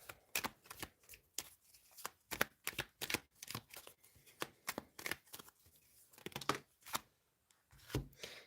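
Tarot cards shuffled and drawn by hand, quick riffling bursts and soft slaps in an irregular rhythm, close and fairly quiet with short pauses between rounds.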